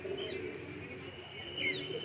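A pigeon coos softly, with a couple of low, murmuring calls over faint background ambience, close but quiet.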